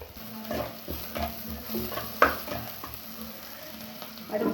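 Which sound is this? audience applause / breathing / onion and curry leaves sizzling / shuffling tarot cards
onion and curry leaves sizzling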